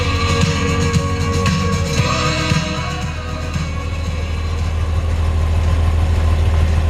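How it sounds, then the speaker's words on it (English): A 1973 Jeep CJ5 engine runs at a steady idle close by, a loud continuous low rumble with a mechanical hum and no talking. "Got, like I said, a good sounding engine."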